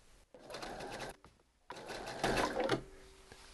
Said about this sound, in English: So I'm just going to clamp that in place and sew down and just stop with the needle down